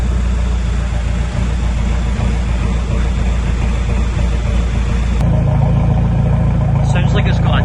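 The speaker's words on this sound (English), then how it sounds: "Sounds like it's got a deep idle as well." A remapped Volkswagen 1.9 TDI diesel idles close by with a steady low rumble, its tone shifting partway through to a deeper, heavier hum that holds to the end.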